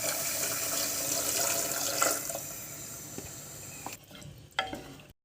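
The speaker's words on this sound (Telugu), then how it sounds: "2 గ్లాసులు బియ్యానికి 4 గ్లాసులు వాటర్ వేసుకోవాలి." Water poured into a pot for rice in a home kitchen, a continuous splashing rush over faint sizzling that thins out, followed by a few light clatters near the end.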